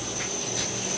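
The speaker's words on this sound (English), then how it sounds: "It's the dehumidifier drain." A dehumidifier drain in a tearoom in Beacon, NY gives off a steady, soft hiss with a faint high whine, constant and unbroken throughout.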